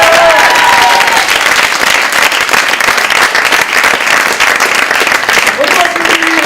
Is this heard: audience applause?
yes